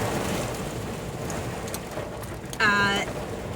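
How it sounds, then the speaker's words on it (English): Heavy rain pours onto a car during Florida's hurricane season, heard from inside as a dense, steady hiss and drumming, with a short vocal sound rising briefly near the end. "it is pouring down rain"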